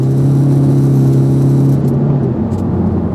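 A 2013 Ford Mondeo 2.0 TDCi diesel with 163 hp and Powershift gearbox accelerating up a slight incline, its engine droning loud and steady with a strong low hum that drops in pitch as the gear shifts near the end.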